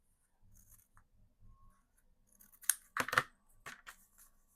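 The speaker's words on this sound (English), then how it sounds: "let's cut these in half" Scissors cut craft pieces from an unboxed kit in half, with faint handling rustle and then a few crisp, close snips bunched near the end, with no talk.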